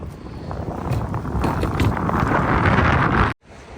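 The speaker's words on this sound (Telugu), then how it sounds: "గాలి ఎక్కువైంది" Strong winter wind gusts outdoors on a snowy day in South Korea. It makes a loud, continuous roar that buffets the microphone, then cuts off abruptly near the end.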